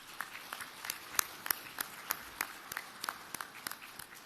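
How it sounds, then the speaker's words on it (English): Audience clapping at a national security seminar, scattered, sparse claps at an uneven pace, fairly faint and distant in a large hall. "give a round of applause to the leadership in this country in terms of the security of our nation"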